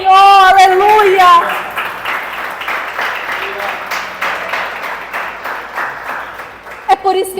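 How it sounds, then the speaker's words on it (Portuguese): A church congregation applauds the Lord during a sermon, a steady wash of clapping that follows a short sung phrase and carries on for several seconds, with a voice rising briefly at the end. "você pode aplaudir ao Senhor"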